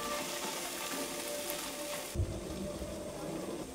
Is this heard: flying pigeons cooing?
no